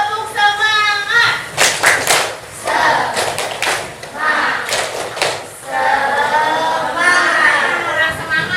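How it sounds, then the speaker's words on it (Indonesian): A classroom group performs a rhythmic spirit clap, bursts of hand claps in patterned groups, mixed with children's chanting and voices, close and fairly loud. "Tepuk semangat."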